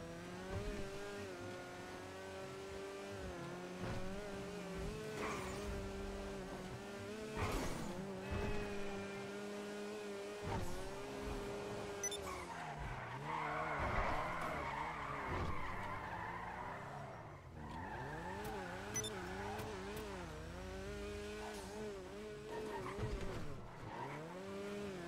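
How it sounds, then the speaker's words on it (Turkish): Lada Cheburek car in GTA 5 Online skidding with long, wavering tire squeals over a droning engine, sliding repeatedly for the whole stretch, steady and fairly faint, with no talk. "O kadar kaydırıyor, kendine gelemiyor bile ya araba."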